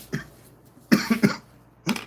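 Several short coughs from one person, close by: a single cough, then a quick burst of three, and another at the end.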